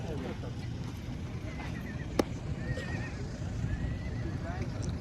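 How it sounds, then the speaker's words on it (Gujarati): A horse whinnies briefly amid a noisy outdoor crowd at a horse race, with a sharp knock and faint hoof clopping under the steady murmur of voices. "દિલકશ ઘોડો હે"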